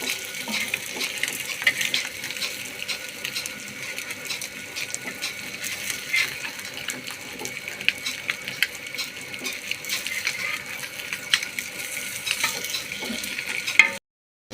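Egg vada frying in hot oil, a steady crackling sizzle with scattered pops and light clicks, moderately loud and continuous throughout, no voices.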